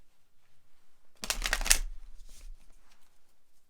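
A deck of tarot cards is riffled and shuffled in one quick, crisp burst of flapping and rustling, close and clear, followed by a faint soft card draw in an otherwise quiet room.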